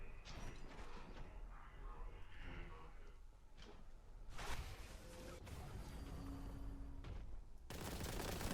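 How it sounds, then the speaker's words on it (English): Shotgun fire in Warhammer 40,000: Boltgun comes as several sharp, loud blasts among mechanical clanks and whooshes, with a harsh burst of noise near the end and no speech. "the shotgun's my favourite weapon for dealing with screamers"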